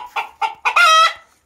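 Nearby rooster gives a clear crow, three short rising notes leading into a long, loud sustained call that trails off, heard alone without voices.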